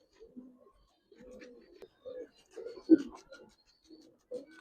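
Big-sized Giribaz and colored pigeons, deep blue males among them, give soft, low cooing calls in short bursts, faint and close, with someone talking between them.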